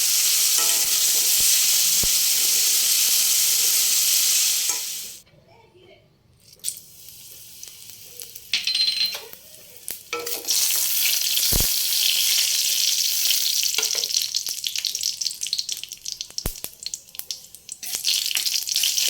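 Black cumin and dried red chilli sizzle loudly as they are tempered into dal. The frying drops away for a few seconds, then returns strongly with stirring clatter, while a person talks over it.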